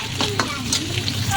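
Potato and carrot pieces frying in hot oil, a brief dense sizzle with bursts of bubbling and a faint clatter, close and without speech.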